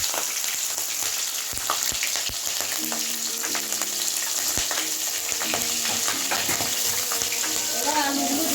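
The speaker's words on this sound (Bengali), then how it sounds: "এটাতে কালো জিরে ফোড়ন দিলাম, কাঁচা লঙ্কা দিয়ে দিলাম" Nigella seeds and green chillies sizzle in hot oil, a continuous loud crackling hiss with scattered pops and brief stirring scrapes, heard close and without talk.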